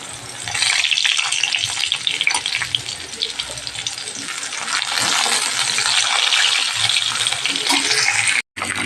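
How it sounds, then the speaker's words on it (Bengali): Green cooking plantain fries in hot oil in a home kitchen, a loud, continuous close sizzle and crackle that holds steady for several seconds before a brief dropout near the end. "আর এদিকে ভাত কলাটা ভেজে নিচ্ছি।"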